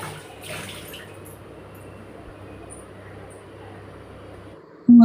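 Tap water runs steadily in a home bathroom while someone washes their face, a continuous close hiss and splash. A brief louder knock comes at the very end.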